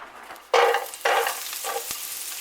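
Chopped onion dropped into olive oil in a frying pan on medium heat, hissing and sizzling in two loud bursts that settle into a steady crackle, with a brief scrape of stirring.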